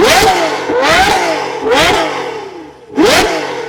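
Novitec Ferrari 812 N-Largo with an 840-horsepower engine and aftermarket exhaust revving hard, with four loud, close blips that climb and drop, each followed by rasping exhaust crackle.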